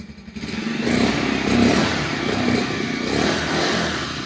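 A 2025 Bajaj Pulsar 125 single-seat motorcycle engine runs steadily with a smooth, even exhaust hum, swelling in a couple of gentle revs over a few seconds, close and fairly loud.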